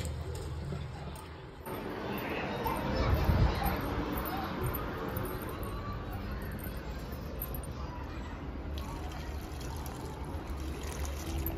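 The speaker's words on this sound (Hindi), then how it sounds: "मैं भी थोड़ा सा पानी डाल देती हूँ" Water is poured onto a potted plant, giving a steady, close splashing trickle that runs for around eleven seconds, with faint background voices.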